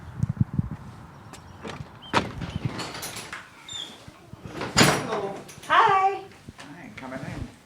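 A gigantic wooden front door of a historic house at 1800 South Prairie in Chicago opens with knocks, creaks and heavy rattling thuds, close up, while voices talk nearby.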